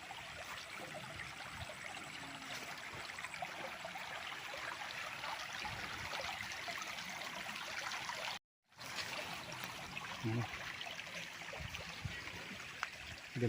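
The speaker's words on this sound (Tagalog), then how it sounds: "Ang gandang pakinggan ng agos ng tubig." A small stream running around the edge of a farm lot in Pagsanjan, Laguna, gives a soft, continuous trickle and rush of flowing water, quiet and steady with a brief dropout partway through.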